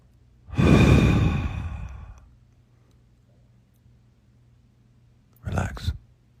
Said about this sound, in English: take another deep breath with me. Through your nose.